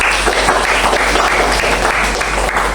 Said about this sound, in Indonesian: Oke, tepuk tangan dulu pertama.